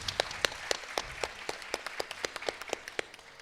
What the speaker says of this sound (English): May we please request one more applause for the vocalist.